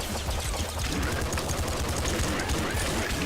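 Rapid, continuous submachine gun fire in a video game, a dense loud stream of close shots with no gaps, running throughout without talking.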